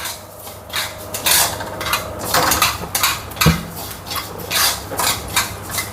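Rice is stirred in ghee in a pan while making rice kheer, giving repeated scraping and clinking strokes of a spoon against metal in an irregular rhythm, close and fairly loud, with no speech.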